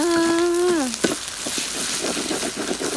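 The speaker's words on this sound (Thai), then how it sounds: "ใส่มะเขือเทศลงไปจ้ะ" Tomatoes dropped into a hot frying pan while cooking son-in-law eggs, a steady crackling sizzle under a brief voice at the start, close and fairly loud throughout.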